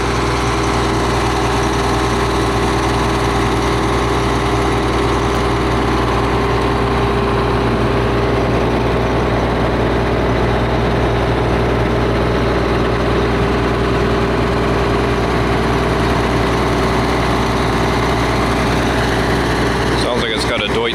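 Air-cooled diesel engine of an old Poclain LY80 excavator on a rubber-tired two-axle carrier, used as a power pack for a small firewood processing setup, running in a steady, loud, continuous drone while someone talks over it.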